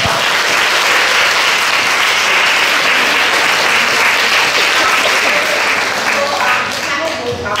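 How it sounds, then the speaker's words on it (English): A large audience applauds loudly and steadily for several seconds, a dense wash of clapping that thins slightly toward the end. "Can I ask for one final round of applause?"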